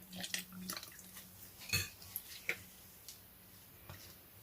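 Liquid is poured while mixing a homemade glutathione lightening lotion, with faint trickles, soft drips and a few light clinks of containers in a quiet room.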